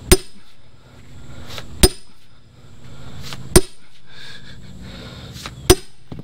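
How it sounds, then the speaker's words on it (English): Firewood round split by hand with a steel wedge: four sharp metallic strikes land at roughly two-second intervals, each a loud, clear ring over quiet outdoor background, with no talk. "So let's do what we can to get this split up by hand."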